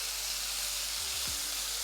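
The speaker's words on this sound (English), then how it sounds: "I'm going to let it sear for another minute." Steak bites searing hard in a hot pan, a steady broadband sizzle holding at an even level throughout, with a couple of low knocks near the end and no voices.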